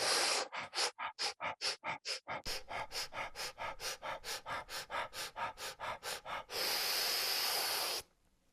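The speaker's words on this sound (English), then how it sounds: "Let's do a fire breath." A fire breath exercise: a fast, even series of forceful breaths in and out, about two or three each second, close and loud, ending in one long sustained rushing exhale before silence. No one speaks.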